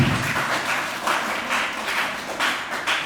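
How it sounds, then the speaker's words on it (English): A school audience applauds a grade-student speaker at a student debate, a steady wash of many hands clapping for about three seconds with a few louder bursts, fairly close and with no talking over it. "let's thank her by a nice clap"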